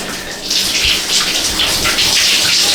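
Shower water running steadily after a bodybuilding competition, a continuous dense hiss of spray that stays close and even throughout with no voices over it.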